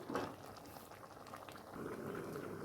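Masoor dal simmering in a covered pot, a quiet continuous bubbling and burbling that swells slightly toward the end, heard close with no voices.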